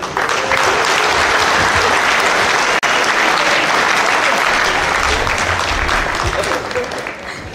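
Sustained applause from a large crowd at Fiji Day celebrations, dense and loud throughout, with a single sharp tap partway through and tapering slightly at the end.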